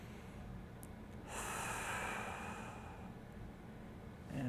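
One slow, deep breath is drawn and released during a hip-focused mobility exercise, heard close and soft as a long airy rush of a couple of seconds in a quiet room.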